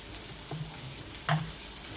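Onion and tomato masala for a spicy Konkani prawn curry sautés softly in a pan, a low steady sizzle with a couple of brief stirring scrapes.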